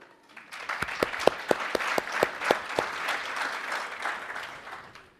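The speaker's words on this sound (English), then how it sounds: "you guys love to clap" A conference audience breaks into applause, opening with a run of sharp, distinct claps that swell into a dense, sustained wash of clapping from a large crowd in a hall.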